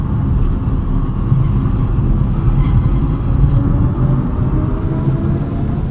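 Steady, close cabin drone of a 2023 BMW i4 eDrive40 electric car driving on drying pavement, a low, even road and motor rumble holding constant throughout with no voices.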